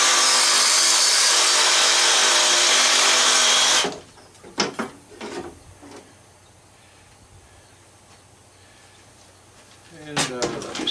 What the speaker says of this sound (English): Now what I like to do is these lines cut off the compressor.